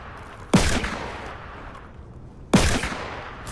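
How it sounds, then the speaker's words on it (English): Two loud, sharp revolver shots fired in a video game, spaced about two seconds apart, each with a sudden crack and a trailing decay, close and dominant with no talk over them. "I'm gonna use the revolver."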